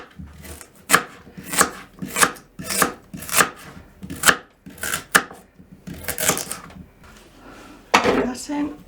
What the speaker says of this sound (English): Chop the garlic a little bit, chuck that in.